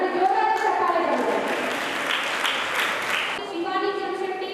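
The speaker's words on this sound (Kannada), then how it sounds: "ಒಂದ್ಸರಿ ಜೋರಾದ ಚಪ್ಪಾಳೆಗಳು" Loud, sustained applause from an audience greets SSLC taluk topper students called to the stage at a school ceremony, a dense clapping wash with a voice speaking over its start and end.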